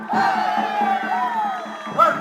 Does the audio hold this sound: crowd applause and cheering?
yes